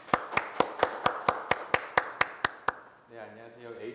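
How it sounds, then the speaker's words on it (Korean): Hands clap at a Korean civic social-innovation forum: about a dozen sharp, evenly spaced claps in a steady rhythm, fairly quiet, then a voice begins speaking. "박수로 청해 듣겠습니다."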